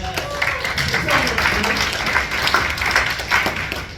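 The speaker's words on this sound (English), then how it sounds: "Give all the comedians that went already a good round of applause." A comedy club audience claps and cheers for the comedians at a stand-up show, giving a steady burst of close, dense applause with scattered voices mixed in, lasting the whole stretch.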